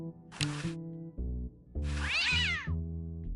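A cat in the adventure game Day of the Tentacle yowls twice in drawn-out, complaining meows, with short airy hissy bursts alongside and a steady tonal game background underneath.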